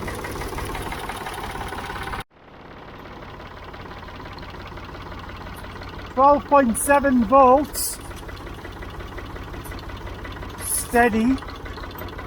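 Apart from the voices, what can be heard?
Ford 3000 tractor engine running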